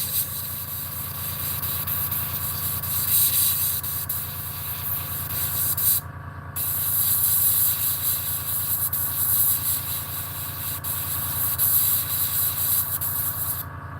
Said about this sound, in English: I am airbrushing